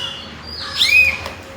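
A small bird gives a couple of brief, bright whistled chirps, the loudest partway through, against a soft, steady background hiss with no one talking.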